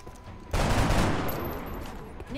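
Gunfire in the turn-based strategy game XCOM Long War, a sudden loud burst of shots that rings out and slowly tails off over a couple of seconds.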